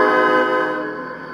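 Train horn on a GM50 locomotive, a single loud, steady sustained blast that fades slightly toward the end.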